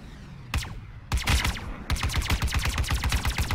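Ship-mounted guns on a Drake Cutlass fire in Star Citizen, sharp energetic blasts coming in a short burst, then a denser volley, then a long rapid string of repeated shots, loud and close with no talking.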